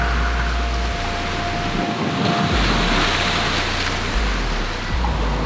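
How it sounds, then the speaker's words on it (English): Ocean waves roll in and break on a rocky fishing shore, a continuous broad wash with gusty wind buffeting the microphone and a low rumble surging and easing across the stretch, no voices present. "There's some really nasty waves coming in every now and then."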